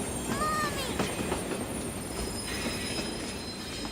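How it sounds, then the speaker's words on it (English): A cartoon train draws near with rumbling rail noise and a squealing wheel whine early on, steady and moderately loud, without talk. "But as he watched the train getting closer, he began to feel a little scared."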